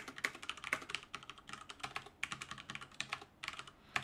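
Rapid, quiet clicking of computer keyboard keys as a message is typed, an uneven stream of close keystrokes with brief pauses and no talking.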